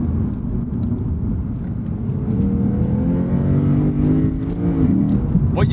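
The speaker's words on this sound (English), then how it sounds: "let's just give it a pull. I do love those juicy downshifts though." A 2015 Lexus RC F engine revs loudly and close by, climbing in pitch. It falls away through downshifts and surges again, with no speech.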